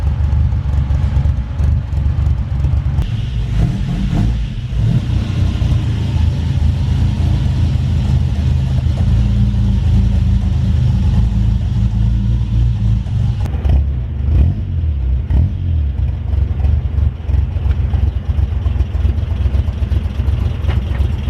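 A 1977 Toyota Celica TA22 with a big cam idles, a loud, lumpy low rumble that stays steady and close throughout.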